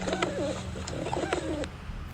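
A pigeon or dove gives two soft, rolling coo phrases, played as a mystery sound in a children's animal-sound guessing game. The coos sit over a steady hiss of background noise, with no talking during the call.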